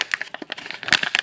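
A paper packet of celery seeds is torn and opened by hand, giving a run of close, crisp crinkling and ripping bursts in quick irregular succession, with no talking.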